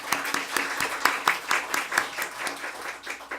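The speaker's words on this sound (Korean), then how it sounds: "우리 김선혜 간사님이 박수 한번 하시죠." Applause in a church congregation for a staff worker, a dense patter of many hands clapping with a few sharper claps standing out, steady and moderately loud for a few seconds, with no voices over it.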